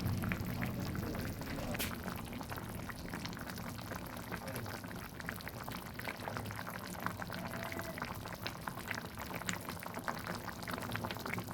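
A snake gourd curry with egg, small tomatoes and slit green chillies bubbles in a pot, giving a soft continuous simmering hiss with small pops, close and fairly quiet, with no talking.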